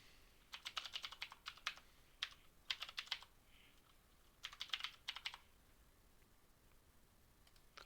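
Keys tapped on a computer keyboard in short bursts of quick clicks, quiet and close, with pauses between runs and no talking.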